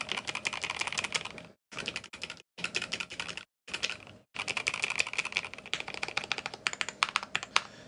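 Fast, crisp keystrokes on a KBD67 Lite R2 mechanical keyboard come in bursts separated by brief pauses, close up and clear, with dense clacky typing and no voices.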